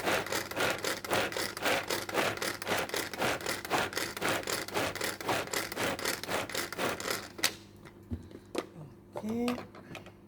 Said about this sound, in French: Voilà, on continue à hacher.